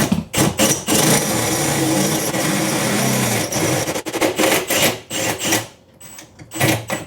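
A drill with a step bit bores a hole for a garage door access switch, whining loud and close in several bursts with rattling grind, stopping and restarting in short pulses toward the end.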